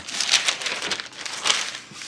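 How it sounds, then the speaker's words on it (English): Two sheets of parchment paper crinkle and rustle as they are handled in a kitchen while making keto thin mints, a close, continuous papery crackling with a few louder crumples. "this is 2 pieces of parchment paper"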